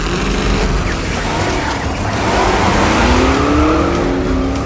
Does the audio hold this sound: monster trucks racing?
yes